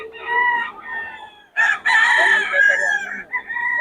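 A Lemon Sweater gamefowl rooster crows loudly and close, one short call followed by a longer, fuller crow that trails off into lower clucking.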